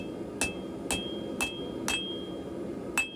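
Five sharp hammer blows ring out on hot steel while a small knife is forged and its sides are dressed, spaced at a steady, unhurried rhythm with a bright metallic ping on each strike and a low background hum between.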